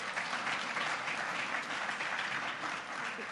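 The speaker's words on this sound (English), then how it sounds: "Rather muted applause there." A large audience at a public conversation event gives a soft, even wash of applause that stays steady and distant throughout, with no voices over it.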